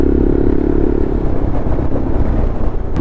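A Yezdi Adventure touring motorcycle being ridden, its engine droning steadily with a loud, continuous rumble and wind noise throughout, no voices.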